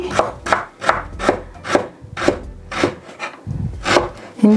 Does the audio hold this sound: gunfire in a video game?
no